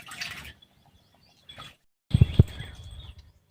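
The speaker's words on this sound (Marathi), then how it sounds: "तर अशाच प्रकारे आता तीन पाण्यामध्ये पूर्ण वेपर मी धुवून घेणार आहे" Thin potato wafer slices are washed in water, with short bursts of splashing and dripping separated by quiet pauses, the last burst louder and closer.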